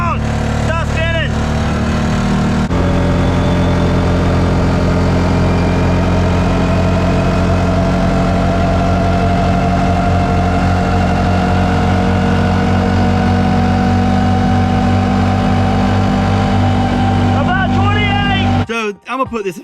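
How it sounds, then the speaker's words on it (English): A Polaris 6x6 side-by-side runs its engine hard while spinning its tires in thick mud, towing another 6x6. The engine drone is loud and continuous, with brief voices near the start and end. "We're spinning tires, come on! Stop spinning!"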